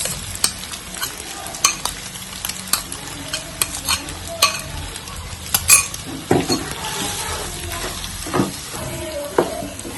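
Chicken chow mein with sauce being stir-fried in a pan, a steady sizzle under repeated scraping and clinking of a utensil against the metal, close and fairly loud.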